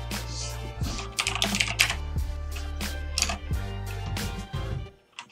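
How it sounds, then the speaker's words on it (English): Quick bursts of close typing on a computer keyboard, with rapid clacking runs and brief pauses, nothing else in the background. "Oh my god, I can't like type today."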